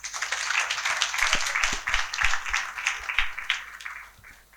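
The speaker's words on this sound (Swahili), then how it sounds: "tafadhali tumpigie tena makofi. Makofi makubwa kabisa." An audience applauds at an International Accounting Day event, a steady wash of clapping from a hall crowd that fades out toward the end.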